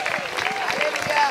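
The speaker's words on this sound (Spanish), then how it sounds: "Dale un fuerte aplauso al Señor." Congregation clapping in a church service, a brief burst of rhythmic applause mixed with voices and a held sung or spoken tone over it.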